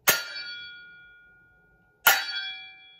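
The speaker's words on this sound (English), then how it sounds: "Cymbals." Two bright metallic clangs from homemade kitchen cymbals made of metal household items, each struck once about two seconds apart and left ringing to a slow fade, close and fairly quiet.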